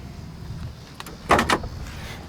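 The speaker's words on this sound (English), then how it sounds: "Doors open nice and smooth." A 1965 Ford Mustang Fastback door opening, heard as a couple of short close mechanical clicks and thumps from the latch and hinge over a quiet room background.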